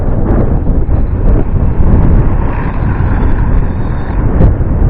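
A HoSpeed Hurricane HS18322 4WD 1/18 scale truggy drives fast outdoors, its motor and tires making a loud, steady rushing roar with gusty, wind-buffeted rumble throughout.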